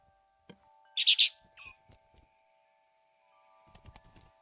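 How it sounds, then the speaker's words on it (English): Short bright bird chirps from The Book of Unwritten Tales 2 video game, a quick cluster of high tweets followed by a single call, with soft game ambience around them. "Cheep Cheep, would it be possible for you to stop admiring yourself for 2 seconds and move over to stuffing your beak instead?"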